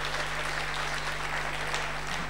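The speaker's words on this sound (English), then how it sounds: "Big round of applause for Johnny" Audience at a stand-up comedy night at the Frog and Bucket applauding comedian Johnny, a dense, steady wash of clapping at an even level from start to finish under a low electrical hum.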